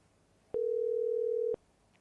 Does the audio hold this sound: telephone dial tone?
yes